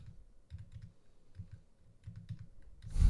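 Computer keyboard keys pressed in short bursts of soft clicks while working in a C++ timeline editor, fairly quiet and close, with a louder rush of noise at the very end.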